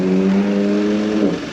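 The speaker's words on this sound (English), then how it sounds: "it's not like the bike that's just flown past" Motorbike flying past nearby, a loud steady engine drone that shifts in pitch as it goes by and fades out at the end, with no talk.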